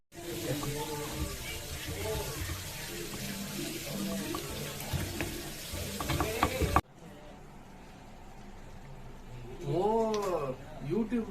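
Pepper being ground for rasam in a bachelor's room: a loud, continuous scraping and grinding rumble that cuts off abruptly, followed by quieter room sound with a voice speaking.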